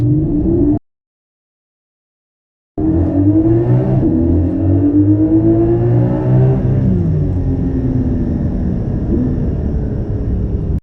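A Porsche engine with its Sound Symposer layered on top accelerates steadily, with rising tones after a brief gap of silence and no talking.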